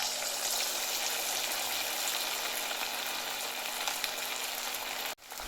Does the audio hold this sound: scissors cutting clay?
no